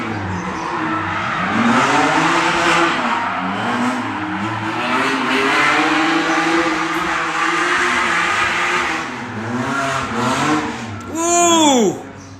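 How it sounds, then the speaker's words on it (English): A BMW E36 drifts around a race track at Cyprus Drift Championship practice, its engine revving and wailing in rising and falling sweeps, ending with a sharp, loud tire squeal near the close. "you can just watch some quiet drifting"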